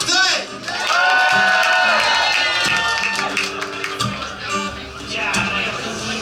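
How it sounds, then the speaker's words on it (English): A concert audience cheers and screams loudly and continuously, with many voices blending into a dense, sustained roar that swells and dips slightly. "On 3, the biggest cheer."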